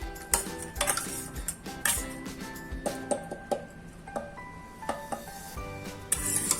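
Cooked bottle gourd is mashed in a steel vessel, with repeated metallic scrapes and clinks of a utensil against the pot in an uneven rhythm, close and clear, with no talk.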